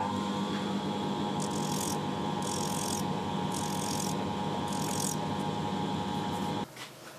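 Steady hand rasping of a homemade sanding stick on cut metal edges, deburring a collet part for a DIY toolpost grinder, in four short bursts over a constant machine hum, then stopping near the end.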